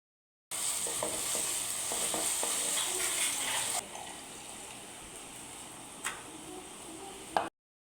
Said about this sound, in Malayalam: ഇനി ഇളക്കി കൊടുക്കാം ഇതിലോട്ട് നമുക്ക് തേങ്ങ ഇട്ട് കൊടുക്കാം